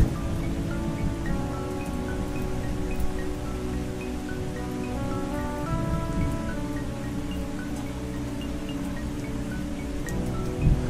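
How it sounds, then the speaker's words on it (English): Thunderstorm audio loop assigned to a track in Band-in-a-Box 2012 for Mac, a steady wash of rain with low rumbling thunder underneath and sustained musical tones layered over it, constant and fairly loud throughout with no talking. "this song has the Thunder audio loop assigned to a track"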